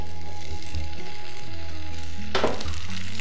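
Thinly sliced potatoes and onion frying in oil, a steady loud sizzle with a sharp burst of crackling near the end as more oil goes in or the pan is stirred.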